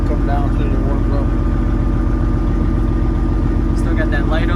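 A Peterbilt 379 truck's diesel engine idles slightly fast, a steady low rumble that continues throughout, with people talking nearby over it.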